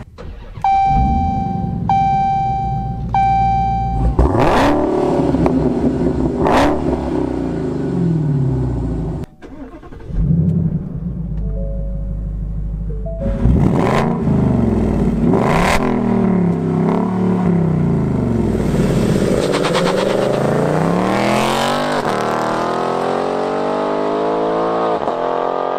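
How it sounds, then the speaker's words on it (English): Ford Mustang GT with a 5-liter Coyote V8 and a Dodge Challenger Hellcat take turns starting and revving, with deep rising and falling exhaust blasts, sharp throttle blips and a steady idle rumble, heard loud and close. "And a lot of that has to do with the exhaust note of these two vehicles."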